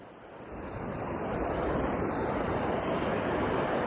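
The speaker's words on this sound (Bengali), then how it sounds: "ওরে বাবা, সমুদ্র কিভাবে ডাকছে।" Sea waves break on Puri beach at dawn in a dense, continuous roar that swells slightly louder, with gusts of wind buffeting the microphone.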